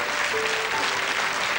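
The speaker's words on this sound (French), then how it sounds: "Allez, viens, on l'applaudit très fort." A television studio audience applauds a young girl contestant on a children's singing show, a short burst of dense, even clapping with a faint tone sounding briefly beneath it.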